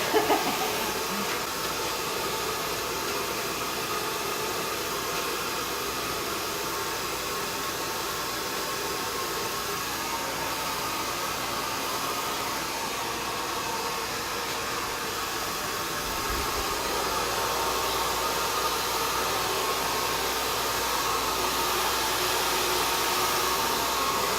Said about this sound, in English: we finished Shannon's blow dry